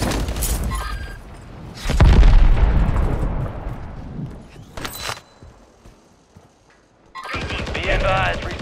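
Gunfire and explosions in a Warzone video game match: bursts of shots and a heavy boom, with a quieter stretch before another loud burst of firing; a voice talks over parts of it.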